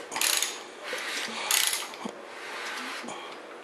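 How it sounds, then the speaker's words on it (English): Valvetrain of a Chrysler 440 engine being turned over by hand during a rocker arm and pushrod clearance check, giving repeated mechanical clicks and ratcheting rasps in short bursts, close and fairly loud, with no talking. "I want to open and close these valves and make sure that that push rod doesn't come close to interfering"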